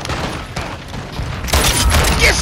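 A special shotgun firing in a video game: rumbling gunfire and mechanical clatter, then a heavier, louder burst of blasts in the second half, close and punchy.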